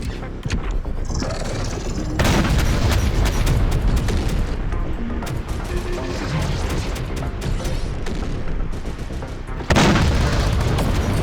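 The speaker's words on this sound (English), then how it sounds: "Another mine going off, something exploding. Spider exploding from a missile." Explosions from mines detonating and a missile destroying a spider robot in the video game Terminator Dark Fate Defiance, heavy rumbling booms and gunfire-like bursts filling the whole stretch, with a loud fresh blast near the end.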